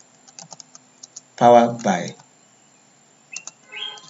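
Quick keystrokes on a computer keyboard give a few light clicks, then pause while a nearby voice speaks, with a couple more taps after.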